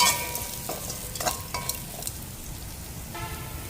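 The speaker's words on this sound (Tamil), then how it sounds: "இப்போ வெங்காயமெல்லாம் நல்லா வதங்கி வருது பாருங்கள்." Onions sauté for a vegetable pizza filling, with a soft sizzle under a few quick scraping stirs in the pan and faint tonal honks far in the background.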